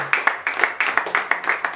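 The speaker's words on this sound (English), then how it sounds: "A round of applause for yourself." Applause from an audience at a women's empowerment gathering, steady rapid claps from a small crowd at close range, sustained without a pause and with no speech on top.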